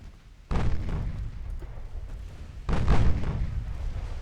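Two heavy booms from a warship flash fire in a naval battle game, each a sudden low blast that rumbles on; the second lands about two seconds after the first and is louder.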